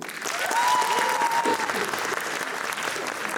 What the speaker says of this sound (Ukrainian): оплески Данілу